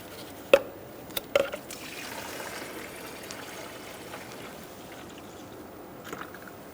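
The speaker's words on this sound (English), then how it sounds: "I'm going to take out the excess coolant, and I'm going to fill up our reservoir." Coolant pouring into the radiator reservoir of a 2014-2018 Subaru Forester, a quiet steady liquid trickle and stream after a couple of sharp knocks and clinks early on, heard close with no talk.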